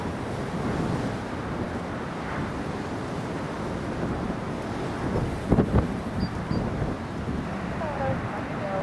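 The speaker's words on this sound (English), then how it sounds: "Still very, very blustery." Strong blustery wind at an airport buffets the microphone in a steady rushing roar, with a brief louder gust midway and no clear speech.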